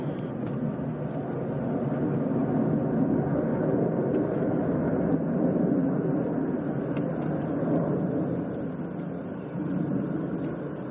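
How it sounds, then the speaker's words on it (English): An Airbus A350 jet flies in formation with other planes, giving a steady, broad distant roar that swells slightly and holds for the whole stretch, with no speech over it. "This Airbus A350 flying in formation with a bunch of planes."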